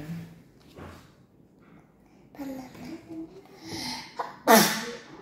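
A single loud, sharp sneeze bursts out near the end after a few seconds of quiet, faint background sound and soft vocal noises, close to the listener.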